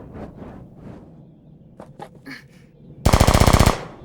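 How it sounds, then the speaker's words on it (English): Anime 7.62 millimeter machine gun fire erupts in a loud, rapid burst of about half a second, following quieter scattered thumps and knocks. "That's gunfire."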